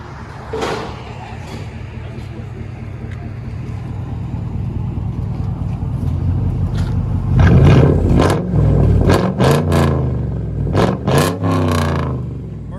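Loud 4.6L V8 exhaust on a Mercury Grand Marquis, idling with a deep rumble before a run of quick, rising revs near the end, close by with some voices underneath.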